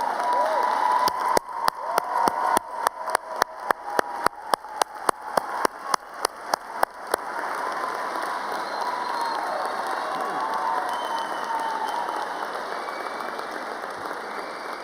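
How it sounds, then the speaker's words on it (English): Applause and cheering from the audience at a 2019 college commencement ceremony, a broad sustained roar of clapping and voices heard alone, with a run of sharp regular clicks over the first seconds. "let's give them a round of applause"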